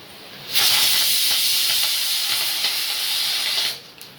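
Mustard, fenugreek and cumin seeds hit hot oil for a drumstick sambar tempering, bursting into a loud, close hiss and sizzle that holds for about three seconds and then cuts off.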